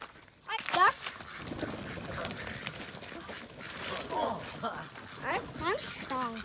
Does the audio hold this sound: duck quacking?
yes